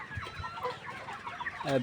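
Layer hens, some with watery, swollen eyes and kept apart from the flock, give a few soft, close clucks and short calls at low volume.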